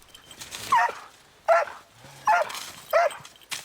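Four sharp, fairly loud barks at a steady spacing from an avalanche search and rescue dog during training at over 1000 metres altitude in the Vosges, with quiet pauses between and no talking.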